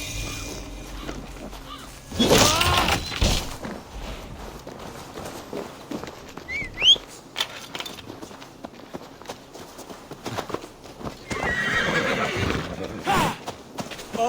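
Horses in the video game Assassin's Creed Valhalla, with whinnies and hoofbeats running and clopping among game sounds, swelling loud in bursts around other noises.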